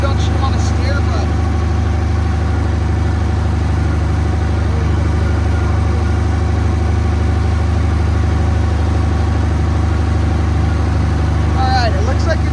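A 1975 International Harvester 666 tractor engine runs loud and close, a steady low rumbling drone throughout, with someone talking over it.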